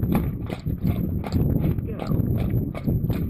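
Horse hooves clip-clopping at a walk, a regular rhythm of close, clear hoof strikes continuing under a person speaking throughout.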